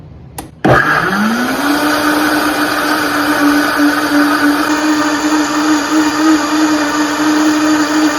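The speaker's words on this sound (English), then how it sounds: "We're just going to blend this up until it becomes a nice purple color" A blender whirs up lemon blueberry pie filling, starting with a sharp click and then rising to a loud, steady motor whine that holds to the end.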